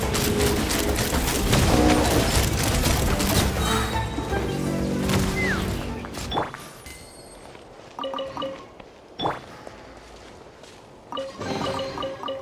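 Rapid video game gunfire crackles in dense, sustained bursts, then breaks off into scattered sharp shots and clanks separated by short pauses.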